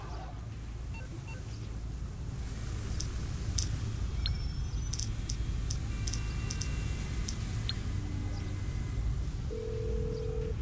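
A phone call being dialed in GTA with a Michael real life mod: light clicks and ticks with a few short electronic beeps over a steady, dense game background hum.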